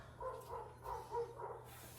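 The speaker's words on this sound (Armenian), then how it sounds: "սկսվեց շների հաչոցը" Faint dogs bark a few times in the distance, the yaps scattered over a low steady hum.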